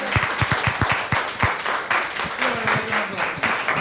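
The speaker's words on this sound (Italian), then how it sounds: "Un applauso." Applause at a gathering in Italy after remarks about a party, a crowd clapping in a dense, steady patter for several seconds with some voices mixed in.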